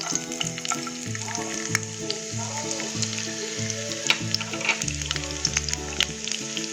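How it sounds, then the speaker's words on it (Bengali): Chopped garlic hits hot oil left over from frying chicken and gives off a constant bright sizzle and crackle. Tonal background music plays throughout, with no speech. "এবার ওই তেলেতে আমি দিয়ে দেব চপ করা রসুন।"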